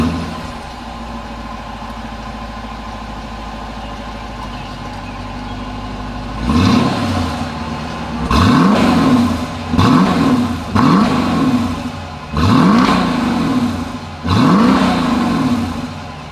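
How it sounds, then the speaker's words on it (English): A 2020 Dodge Durango's exhaust sits at a low idle, then the engine is revved five times in quick succession, each loud, close rev climbing and falling back toward idle. "As always, here is that exhaust clip."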